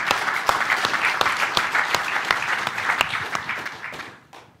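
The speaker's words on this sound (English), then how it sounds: "And if you're a noob and you know it, yeah, clap your hands" Audience clapping at a DEF CON 25 Recon Village talk, a dense burst of applause with sharp individual claps that holds steady and then fades out near the end, with no talk.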